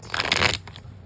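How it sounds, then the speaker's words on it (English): Tarot cards being shuffled by hand during a reading, a close, dense papery riffle and crunch lasting about half a second, then trailing off into a few faint rustles. "let's get to shuffling for Aries moons, mind, body, and spirit"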